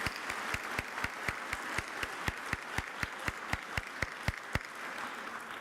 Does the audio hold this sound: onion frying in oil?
no